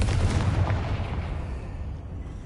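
A Confringo spell blast from the Hogwarts Legacy video game erupts as a loud, broad burst at the start and then rumbles and fades over a couple of seconds, with no voices.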